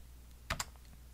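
Two quick keystrokes on a computer keyboard as a date is typed into a spreadsheet, crisp and close, in an otherwise quiet room.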